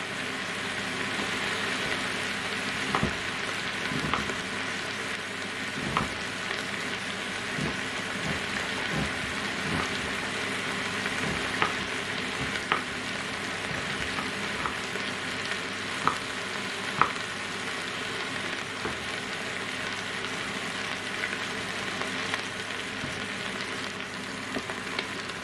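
Chopped onions fry in a pan with a continuous crackling sizzle, close and even, broken by occasional clicks and scrapes of stirring over about twenty-five seconds, with no talking.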